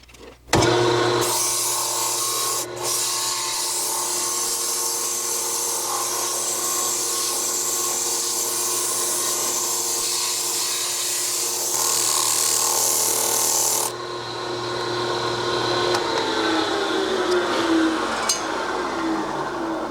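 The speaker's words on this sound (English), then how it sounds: "I'm just going to try to sand it and hope it doesn't explode and becomes a usable bowl" Thin woodturned bowl spins on a lathe while being sanded, making a loud continuous whirring and rasping drone with a few sharp clicks. The friction noise stops partway through and a quieter mechanical hum carries on.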